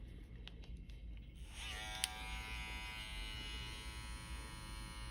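Electric clippers buzz steadily as they trim hair from a Biewer terrier's paw, a faint close hum that starts up after a quiet moment and continues with a small click partway through.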